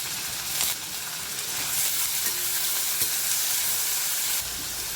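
Tomatoes dropped onto browned garlic in a hot pan fry with a steady, close sizzle and hiss, while faint stirring scrapes and small pops run through it.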